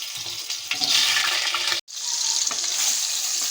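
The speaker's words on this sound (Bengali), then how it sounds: "লবণ হলুদ দিয়ে আলুগুলো আমি ফ্রাই করে নিচ্ছি।" Potatoes sizzle in hot oil in a kadai with salt and turmeric, a loud continuous frying hiss broken by one brief gap, with no talk.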